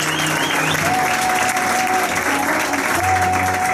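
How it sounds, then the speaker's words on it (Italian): Loud, steady applause from an audience at a school entertainment event, honoring a staff member named Carlo. Dense clapping fills the whole stretch, with a few voices and faint tones underneath. "Applauso per Carlo."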